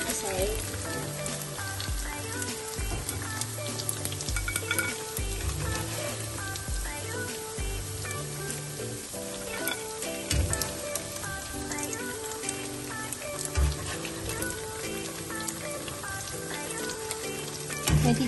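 Tofu for sisig fries in a pan with a constant busy sizzle and crackle, steady throughout with occasional louder spatters and someone speaking at times over it.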